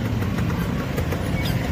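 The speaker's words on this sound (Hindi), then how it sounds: "बहुत ट्रैफिक हो जाती है रोड में" Road traffic on a busy street, a continuous low engine rumble of passing and idling vehicles, moderately loud and steady for the whole short stretch.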